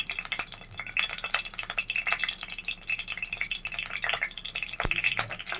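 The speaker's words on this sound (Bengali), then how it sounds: "শুকনা মরিচটা আমি একটু লাল করে নেব, ভেজে নেব।" Dried red chillies fry in hot mustard oil with a steady, crackling sizzle of bright pops and spits, close and continuous, with occasional stirring clinks and no talking.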